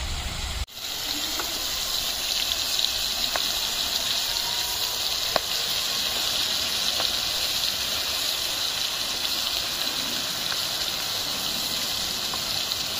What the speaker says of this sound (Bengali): মাছটা ভাজা ভালো বানাতে হবে, হালকা করে দেবে, লাল লাল করে, লাল লাল করে ভাজতে হবে